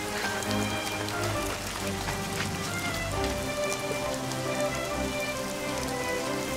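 A sudden heavy rain shower pours down, a dense steady patter of drops on surfaces, fairly close and continuous with no voices over it.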